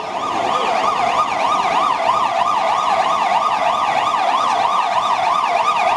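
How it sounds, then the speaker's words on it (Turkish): A fire engine siren wails on Istiklal Avenue in Istanbul, loud and near, rising and falling in a fast, steady yelp for the whole stretch, with no voices over it. "Ana ha yangın varmış itfaiye."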